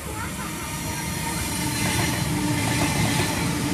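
Sydney Trains Waratah A-set electric train at Lewisham station, a steady close rumble of wheels and motors with faint rail clatter running throughout, growing slightly louder toward the end.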